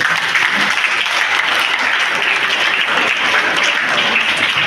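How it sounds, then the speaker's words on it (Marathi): An audience applauds after a group song at a Marathi Language Day school event, with dense, steady clapping from many hands, loud and close, sustained without a break. "त्यांच्यासाठी तर टाळ्या वाजवा सर्वांनी"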